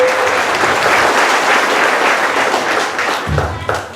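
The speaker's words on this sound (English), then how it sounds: "Can we have another round of applause?" Loud audience applause at a Memorial Day event, many hands clapping densely and close, tapering near the end as a voice briefly begins to speak.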